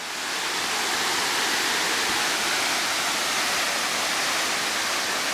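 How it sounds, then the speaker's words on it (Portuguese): A jungle waterfall roars as a dense, continuous rush of falling water, loud and close with no voices. "Aqui você já tem uma pequena noção do que é essa cachoeira."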